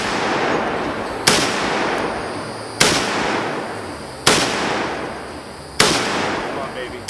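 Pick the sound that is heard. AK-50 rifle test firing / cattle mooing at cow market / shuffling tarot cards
AK-50 rifle test firing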